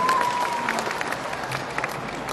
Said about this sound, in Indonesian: Tepuk tangan buat semuanya di sini.